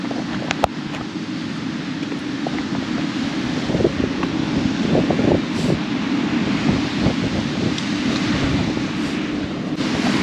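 Wind blows at a beach inlet, buffeting the microphone in a constant loud roar, with faint surf beneath and a few brief knocks.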